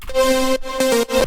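A sustained, buzzy synth lead plays a short melodic phrase of held notes, bright and harmonically rich, with brief gaps between notes.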